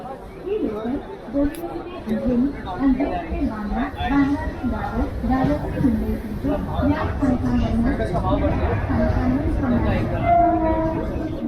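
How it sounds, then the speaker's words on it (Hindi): A packed Mumbai local train rolls into a station with a steady rail rumble and clatter, while dense crowd chatter and a talking voice sit over it throughout. "आगे ट्रेन, और देखो कितनी भरी पड़ी है।"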